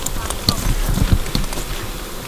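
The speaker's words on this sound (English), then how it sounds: "That's a queen bee" Bees hum and buzz around an open beehive with the queen inside at a farm open house, a close, continuous insect drone with scattered clicks and crackles, while people talk quietly nearby.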